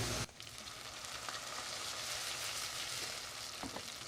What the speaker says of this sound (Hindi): अब हम इसमें टमाटर का पेस्ट डालेंगे